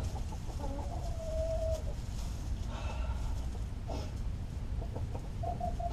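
Chickens on a farm flock hit by MG disease, clucking in short, scattered bursts with one drawn-out call, moderately near over a steady low background hum.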